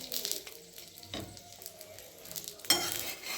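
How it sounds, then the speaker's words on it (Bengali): Spinach paratha frying in oil in a pan, giving a steady close sizzle with crackling, and two sharper bursts of spatter partway through. No one speaks. "এবার আমি একটু তেল দিয়ে দিচ্ছি। তেল দিয়ে আমি ভেজে নামিয়ে নেব।"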